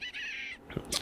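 A creature squawks in a Minecraft FTB Horizons modpack while triffids attack it: a sustained crow-like caw runs through the first half, then several short squawks follow, fairly loud and close with no talk.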